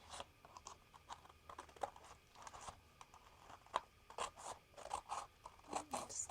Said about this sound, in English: Now we are going to go ahead and cut our base down to match